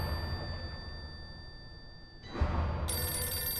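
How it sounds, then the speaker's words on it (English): A red telephone rings in the video game Blues and Bullets, a bright bell tone that starts midway after a low ambient hum and keeps going, fairly close and clear. "And now we can actually answer the phone."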